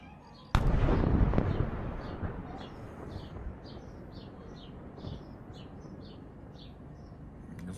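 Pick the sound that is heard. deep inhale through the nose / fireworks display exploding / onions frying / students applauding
fireworks display exploding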